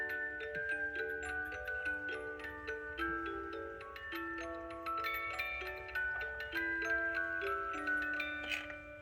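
A Hoenes Happy Marriage 8-day musical cuckoo clock plays a bright music-box melody of plucked tones over its steady ticking, close and clear with no voices.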